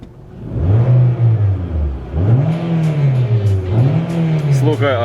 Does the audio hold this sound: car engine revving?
yes